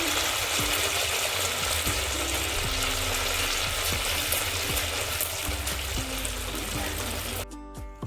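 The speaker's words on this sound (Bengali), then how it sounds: "এবারে গুড় পিঠে ভেজে নিচ্ছে।" Jaggery pitha cakes frying in hot oil, a steady close sizzle and bubbling with faint periodic tapping, ending abruptly in a brief clatter.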